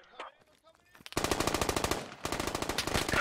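Automatic rifle fire in the military shooter Squad during an intense defensive firefight, rapid bursts of loud, close shots in quick rhythm after a few scattered distant pops.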